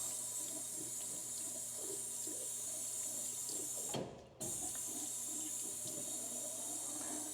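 Water runs steadily from a tap while rinsing a sink drain, a continuous close splashing hiss that breaks off briefly midway and then resumes.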